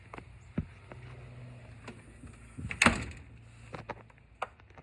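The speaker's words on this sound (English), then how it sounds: "Shut the door." A household door swings shut with a sharp thud, surrounded by a few softer knocks and handling sounds, close by in a quiet indoor space.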